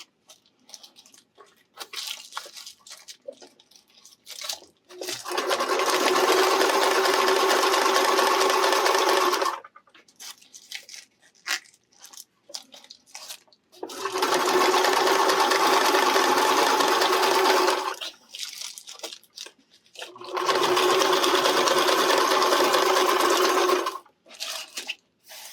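A sewing machine stitches fabric for RV reflector shades in three sustained runs of several seconds each. Quiet handling and rustling noises fill the pauses between runs.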